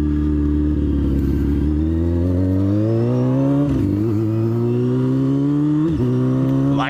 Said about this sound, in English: That's how you ride a motorcycle, like a baller.